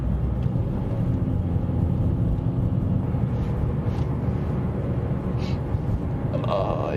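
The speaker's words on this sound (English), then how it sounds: "the car is acting up right now" A car in Iceland whose engine is acting up gives a steady, loud, rough rumbling drone throughout, with a few faint higher sounds over it.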